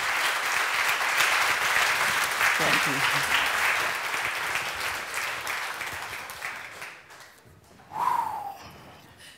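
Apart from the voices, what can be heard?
audience applause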